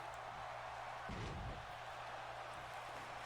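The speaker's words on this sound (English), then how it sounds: "Cruz caught him with that choke slam" A wrestler is choke slammed onto the mat at a UPW wrestling show, landing as one heavy, brief thud over the steady murmur of the arena crowd.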